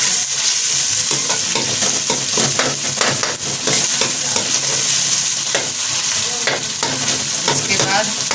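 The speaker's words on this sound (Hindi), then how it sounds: "अब इसमें टमाटर चलाएं अच्छी तरह से।" Tomatoes are stirred and frying in a hot pan for baingan bharta, giving a continuous loud sizzle with scraping, clattering strokes of the spoon throughout, close up and without talk.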